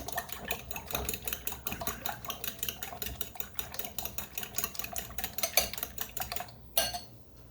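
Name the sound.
whisking five eggs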